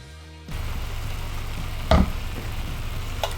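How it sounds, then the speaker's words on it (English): A sauce of brown sugar, sesame oil and Sriracha sizzles steadily in a pan, with one louder scrape of stirring partway through and a light clink near the end. "Stir it up."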